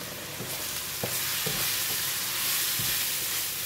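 Curry, chili, coriander and garam masala powders sizzle steadily in hot oil, a continuous close frying hiss with a few soft stirring knocks and no voices.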